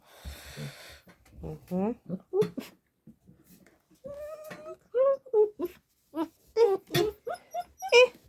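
Six-week-old puppies give a run of high whines, whimpers and short yips, rising and falling in quick bursts at close range, with a person speaking to them in between.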